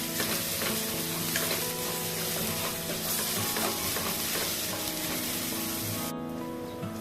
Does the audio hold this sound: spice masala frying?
yes